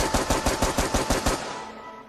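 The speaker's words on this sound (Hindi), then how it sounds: "फायर फायर हवलदार, गोलियां चलाओ।" Rapid automatic gunfire from the Free Fire video game cracks out in about eight evenly spaced, loud shots, then stops and leaves a fading tail.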